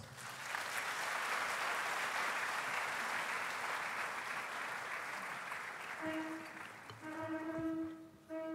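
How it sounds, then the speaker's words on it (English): An audience applauds at a university congregation ceremony, a sustained dense clapping that fades after several seconds as sustained musical tones come in. "A round of applause."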